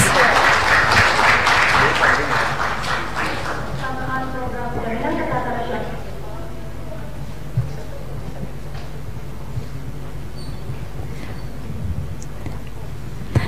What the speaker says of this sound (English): please give applause to the winner of these competitions